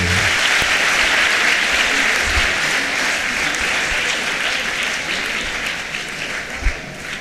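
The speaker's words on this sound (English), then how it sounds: "Are you going to clap for him?" Loud, sustained applause from the audience at a girls' school quiz competition welcomes a visiting deputy minister of education, filling the whole stretch with steady clapping and a faint crowd murmur.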